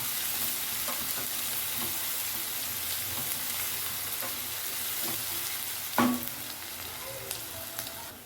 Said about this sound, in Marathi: बारीक किसून टाकले लसूण पण किसून टाकले आता ह्याला चांगले परतून घ्या